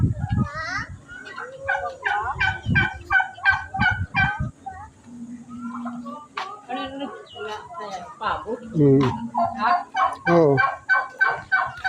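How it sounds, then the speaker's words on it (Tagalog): Turkeys gobble over and over in loud, rapid, warbling bursts, mixed with other fowl calls around a farmyard, while people chat nearby between the calls. "Ito pabo."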